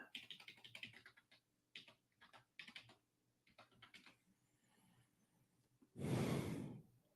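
Quick bursts of keyboard typing, close and fairly quiet, with pauses between clusters, then a loud breathy exhale near the end.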